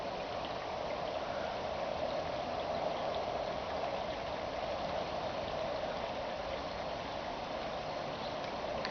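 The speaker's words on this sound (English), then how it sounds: "And you can hear the water." Creek water flowing beneath a bridge, a steady close babbling rush with no pauses and no talking.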